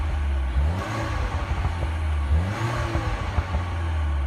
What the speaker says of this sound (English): And then I've got the cold air intake up front, so it goes whooshy whooshy